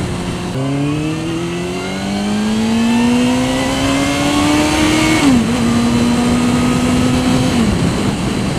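A Suzuki GSXR 750 sport motorcycle engine revs up in a long, loud, rising pull through the gears on the highway, with a shift partway through before it climbs again and then backs off.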